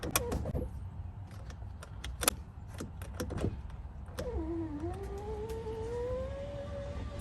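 A Nissan 350Z/G35 door power window motor runs alone, preceded by a few sharp clicks and taps, then a steady whining hum with a rising pitch as the glass moves.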